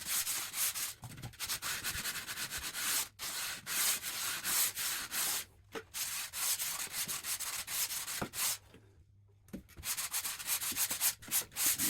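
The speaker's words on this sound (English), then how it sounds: "sand the area until it feels smooth" Hand sanding over a repaired crack, steady forward-and-backward rubbing strokes close up, broken by a few brief pauses, with no voices.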